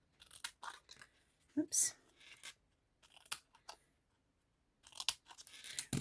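Scissors snip through a stack of paper at a crafting table during a stamp project, a few separate crisp cuts spaced out over several seconds, close and fairly quiet, with a brief spoken word in between.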